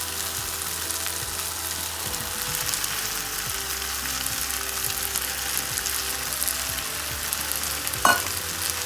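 Mutton with tomatoes and salt frying in a pan for a kurma, giving a steady, dense sizzle throughout with faint stirring scrapes and one sharper clink near the end.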